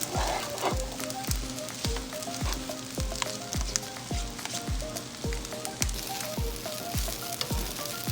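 Shrimp fried rice with soy sauce stir-fried in a pan: steady sizzling with regular rhythmic spatula scrapes and clanks roughly every half second, close and alone without talk.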